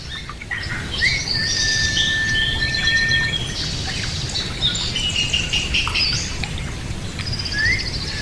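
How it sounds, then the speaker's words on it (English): A pet parrot chirps, whistles and calls in bright, repeated bursts and sliding tones, fairly close, over a steady low background hum indoors. "Happy bird."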